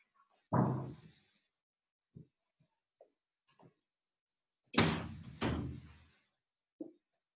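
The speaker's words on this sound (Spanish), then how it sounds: "voy a cerrar la puerta" A kitchen door is being shut in a home: a firm thud, a few scattered small knocks and clicks, then two louder closely spaced bangs as it closes, with no talking.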